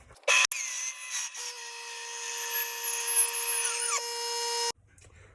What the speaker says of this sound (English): I thought I'd show you the process for my sanding. It does include this air compressor with a squeeze trigger there and Velcro discs